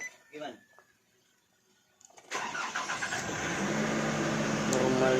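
A Nissan Navara pickup engine cranks and catches after a short quiet pause, then settles into a steady, close idle; a voice speaks briefly before the start.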